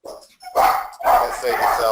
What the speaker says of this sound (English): I apologize for my dog's going crazy with the door there